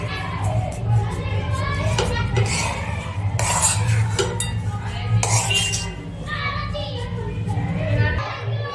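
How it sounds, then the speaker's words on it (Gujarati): Ingredients stirred together with powdered sugar in a bowl for a bread-free dabeli snack, with clinks and scraping of a utensil against the bowl throughout, steady background hum and faint voices of children nearby. "હવે આપણું બધું મિક્સ કરી લઈશું"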